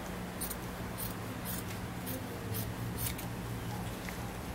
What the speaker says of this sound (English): I'm just gonna cut out